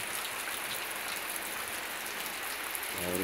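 Steady rain pours down outside on a rainy Sunday afternoon, a continuous broadband hiss of drops hitting surfaces, loud and even throughout with no voices.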